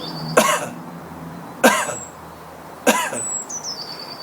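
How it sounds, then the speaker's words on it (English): Three sharp, forceful coughs from one person, evenly spaced about a second and a quarter apart, each a short broadband burst with a quick decay, close to the microphone in a quiet room. "If you simply do this,"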